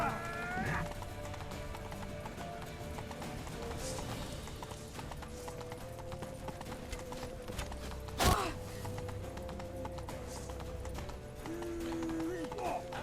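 Horse hooves clop in a steady rhythm while riding in The Witcher 3, close and continuous under a talking voice, with a sharp game effect cutting through briefly midway.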